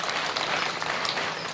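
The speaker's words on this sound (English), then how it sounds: "Let's clap for them." Audience applause for the teachers at a girls' centre anniversary celebration, a dense, steady wash of many hands clapping together, moderately loud and sustained throughout.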